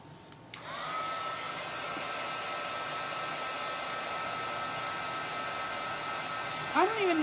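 A hair dryer drying a cow farmhouse storage box craft project clicks on and then runs as a steady close whine and rush for several seconds, shifting briefly near the end as it moves.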